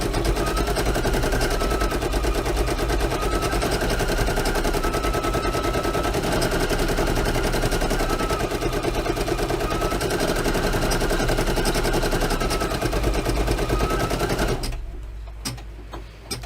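A Brother F540E embroidery machine stitches continuously, a loud, close, rapid mechanical rattle with a steady hum, which ends abruptly near the end as the thread trim occurs and the machine briefly stops.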